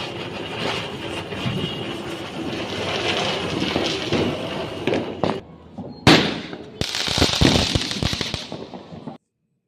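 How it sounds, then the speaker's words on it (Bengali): Diwali firecrackers and fireworks popping and crackling continuously, dense loud bangs and sharp cracks near and far with a couple of sudden close bursts. "বাজি পোড়াচ্ছে, কত আনন্দ হচ্ছে।"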